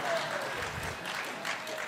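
A crowd applauds steadily at an event in Phoenix, a continuous wash of clapping at moderate distance, with a voice talking over it.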